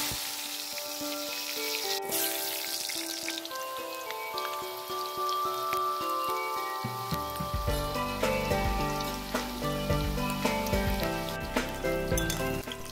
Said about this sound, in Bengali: তো চলো আলুগুলো আমি লাল করে ভেজে নিই।